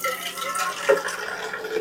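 Tap water runs steadily into a container in a home kitchen while noodles are being prepared, a continuous splashing wash with one brief louder splash near the middle, fairly close and heard alone.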